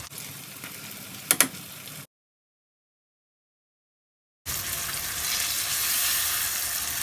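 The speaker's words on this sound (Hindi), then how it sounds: "तो हम इसे 5 मिनट और पकाएंगे। और टमाटर को घुमा घुमा के हम सब तरफ से कर लेंगे कि छिलका उतरने में आसानी हो जाए।" Whole tomatoes sizzle in a hot pan as they are turned to loosen their skins: steady close frying with a brief clink, a sudden silent gap, then louder sizzling resuming.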